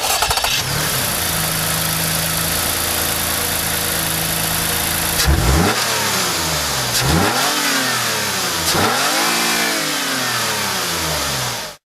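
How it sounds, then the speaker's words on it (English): A Toyota Highlander car engine starting, idling steadily, then revving up several times before cutting off abruptly. "And now we'll have a listen to the engine."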